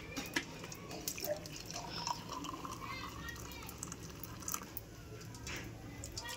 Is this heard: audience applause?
no